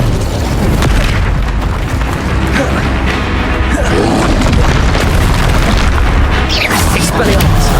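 Incendio fire spell cast in the Hogwarts Legacy video game, a loud continuous roar of fiery blasts and booming impacts packed into dense game action, with no pause.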